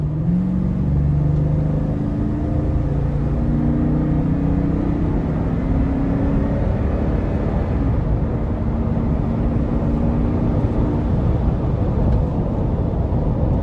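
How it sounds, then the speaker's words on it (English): A 2021 Toyota Sequoia Limited engine pulls under throttle, a steady loud low rumble of the V8 with rising drone and road noise filling the whole stretch, no voices heard. "We're gonna give it a little throttle here."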